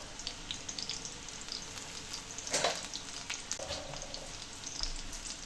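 Raw banana and curry leaves sautéing in hot oil for vazhakkai fry, a constant close crackling sizzle with occasional stirring scrapes and a brief louder burst midway.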